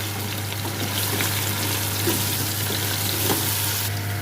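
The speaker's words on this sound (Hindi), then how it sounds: "प्याज और लहसुन के साथ मैंने पाए की थोड़ी सी भुनाई कर ली है, और यहाँ मैं इसमें डालूँगी सुरख मिर्च और हल्दी, और अब इसके साथ थोड़ा सा मैं इसे भून लूँगी।" Goat trotters fry in a pan with onion, garlic, red chili and turmeric, giving a steady close sizzle with occasional stirring scrapes.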